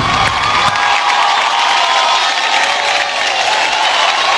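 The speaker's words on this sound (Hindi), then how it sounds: "इस टीम के लिए जोरदार तालियां होनी चाहिए" An audience at an award show claps and cheers loudly in a continuous, bright roar with whoops, close and filling the room for several seconds.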